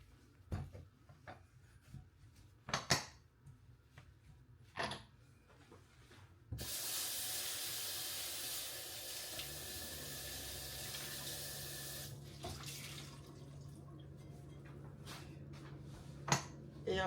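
Tap water runs steadily into a sink during household cleaning and rinsing, a continuous broadband rush lasting several seconds, framed by a few scattered knocks and clinks before and after.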